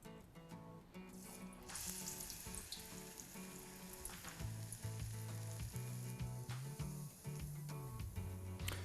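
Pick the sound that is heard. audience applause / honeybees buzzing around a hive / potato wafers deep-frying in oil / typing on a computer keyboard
potato wafers deep-frying in oil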